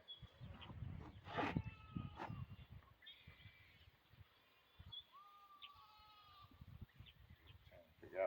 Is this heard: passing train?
no